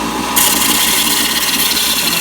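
A belt sander grinds a chamfer onto the edge of a steel hammer head, using the unsupported part of the belt; a steady, loud, continuous abrasive rasp that holds throughout, with no talking.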